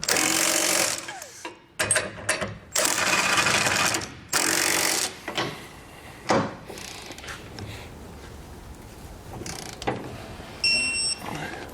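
Sockets of 3/4 and 7/8 inch tighten bolts on a Curt trailer hitch receiver on a 1999 Dodge Ram pickup. Repeated short, loud mechanical bursts are separated by brief pauses.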